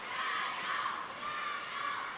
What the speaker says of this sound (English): you can already hear the crowd in Suzhou getting behind Ding Ning